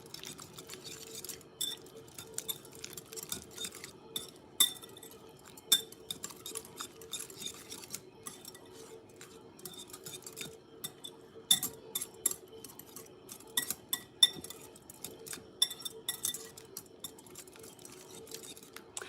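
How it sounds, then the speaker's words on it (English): Valentine's treat ingredients whisked in a bowl, giving close, rapid, irregular clinks and taps of the whisk against the bowl over a steady run, with no one talking. "We're gonna give it a quick little whisk, get everything kind of combined."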